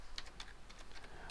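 Fingers tap out a command on a computer keyboard, about a dozen quick, soft key clicks in an uneven rhythm, close but quiet, with no voices.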